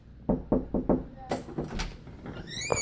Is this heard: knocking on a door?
yes